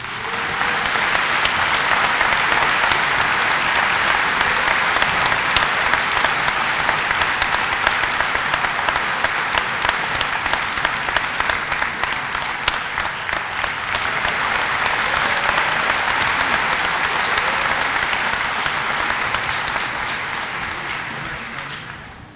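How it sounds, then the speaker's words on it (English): An audience at a community college commencement ceremony claps steadily for a long stretch, a dense, even wash of applause that fades slightly midway and then tapers off at the end. "Please give a round of applause to Coach Jim Dutcher."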